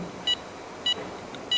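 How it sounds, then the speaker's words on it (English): A DOVE SCENAR device sounds three short, clean electronic beeps at an even spacing of about half a second, each one crisp and fairly quiet, rising over a soft, steady background hiss. "the machine will be creating like a beep, beep, beep, beep, beep. Will give you a beeping sound."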